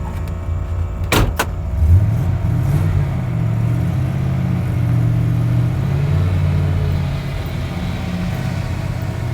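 A custom Ford F-150 sleeper truck with turbos idles with a low, steady engine rumble, two sharp clicks early on, then a brief rise as it revs before settling back to a constant drone.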